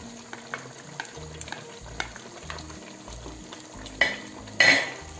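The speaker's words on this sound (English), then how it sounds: "Let's add in 2 tablespoons of tin tomatoes." Canned tomatoes going into a pot of browned meat and onions for Ghanaian wrewre soup, with a soft sizzle, a few light utensil taps and a burst of louder hissing and splashing near the end.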